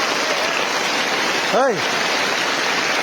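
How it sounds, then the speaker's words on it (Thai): Rain pours down outdoors in a steady, dense hiss that fills the whole stretch, with one brief shouted exclamation from a man partway through. "บรรยากาศตอนนี้ฝนตก"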